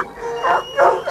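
Hounds from a stag-hunting pack bark in two loud, close bursts separated by a short pause, with a howling, yelping tone.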